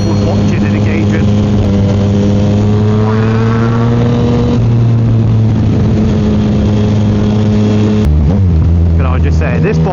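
A Yamaha MT-09 motorcycle engine runs loud and close, with a steady, throaty drone and a slow rev rise. Its pitch drops sharply near the end.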